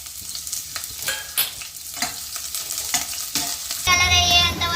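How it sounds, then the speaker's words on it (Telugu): Onions and green chillies fry in hot oil for a prawn curry, a steady close sizzle broken by scrapes and clatters of stirring, then a louder, brighter hiss near the end as more goes into the pan. "ఆయిల్ పోసిన తర్వాత అయితే ఉల్లిపాయలు వేస్తాండి"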